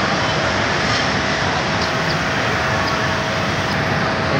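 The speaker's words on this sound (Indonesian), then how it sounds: "Tujuan Soekarno-Hatta melintas langsung di Stasiun Manggarai." A Soekarno-Hatta airport train passes straight through Manggarai Station. A loud, steady roar of wheels and engine fills the whole stretch without pause, with no voices.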